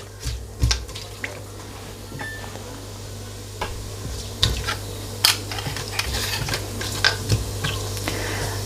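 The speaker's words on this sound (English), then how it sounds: "to this I'm going to add my cumin seeds and my whole spices, and just give that a few seconds" Cumin seeds and whole spices hitting hot oil for chickpea pilau, giving a low, steady sizzle at close range, broken by sharp clinks and scrapes of a utensil stirring against the pan.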